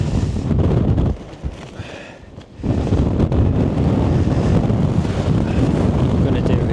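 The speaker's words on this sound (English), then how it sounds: "It's fairly windy." Strong gusty wind buffeting a Hilleberg Enan tent and roaring across the microphone outdoors, loud and continuous with a brief lull in the middle before the gusts return.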